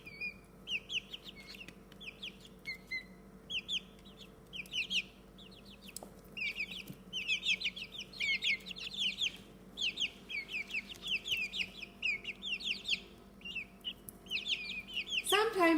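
Young chicks in an indoor brooder give a steady run of bright cheeps and soft clucks, a busy overlapping chatter throughout with some quiet rustling underneath.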